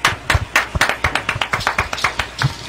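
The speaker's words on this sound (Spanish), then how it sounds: "Un aplauso para ellos." Audience clapping for a Latin American folk music group at an evening show, a thin, uneven patter of distinct claps from a modest crowd close by, with no talk over it.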